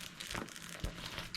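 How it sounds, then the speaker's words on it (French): Bubble wrap from an AliExpress package crinkles and crackles in a few quick, close handling rustles, brief and fairly soft. "Il y a du beau petit papier bulle."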